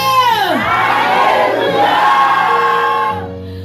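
A worship congregation shouts alleluia together in response, a loud sustained massed cry of many voices filling the space, then fading slightly near the end as a steady tone remains.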